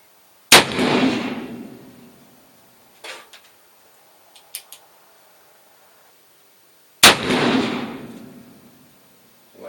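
Two loud black-powder shots from an 1858 Pietta revolver, each a sharp crack with a long rolling tail, spaced about six seconds apart, with faint clicks and handling noises between them.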